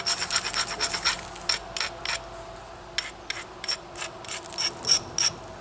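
An obsidian biface is worked by flint knapping, heard as short, crisp scraping and crunching strokes in irregular bursts, close and fairly loud, with brief pauses between and no talking.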